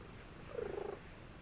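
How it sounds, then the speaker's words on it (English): A cat purrs softly while being cuddled, a brief, faint, rhythmic rumble of about half a second rising out of quiet room noise. "Truly, Molly Cat cuddles and purrs are so healing to me"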